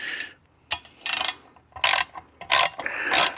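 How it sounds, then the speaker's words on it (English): A ratchet runs down valve cover bolts on Brian Tooley Racing die cast valve covers, giving several short bursts of rapid clicking with brief pauses between them, close and clear. "And we'll run them down with a ratchet."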